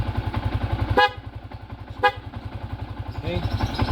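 Loud horn on a Yamaha Sniper 150 motorcycle sounds in two short blasts with a third brief honk near the end, over a steady close idling engine.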